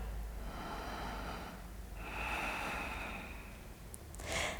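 Slow, deep breathing during a seated yoga twist: a long airy exhale, a pause, then another drawn-out breath, faint and close, ending in a short sharper intake.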